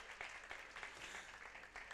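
An audience applauds throughout a temple ceremony, a continuous quiet patter of many hands clapping for about two seconds.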